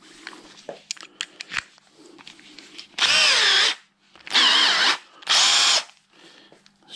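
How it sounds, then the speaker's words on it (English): A slightly bent drill bit bores holes in a part for a Royal Enfield Meteor 350 / Classic 350 bobber build. Three loud, close, whining bursts of about a second each come after quieter clicks and handling noises. "Drill's a bit bent,"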